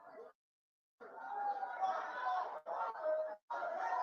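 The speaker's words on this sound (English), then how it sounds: "This is some crowd." A crowd at a Donald Trump event murmurs and chatters in a faint, blended babble, broken by short silent gaps.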